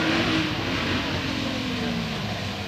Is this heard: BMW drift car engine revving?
yes